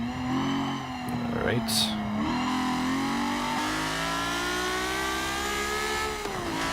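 A race car in Forza Motorsport 7 revs high toward about 9,000 RPM, its engine note rising in a loud, continuous buzzing whine while someone talks briefly over it.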